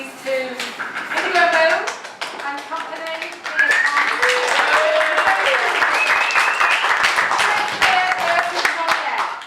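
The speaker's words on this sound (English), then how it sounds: "So a big round of applause please to Indigo Moon and Compagnie Via Cane." Audience applause after a puppet show, clapping that builds and holds for several seconds with voices and cheers mixed in.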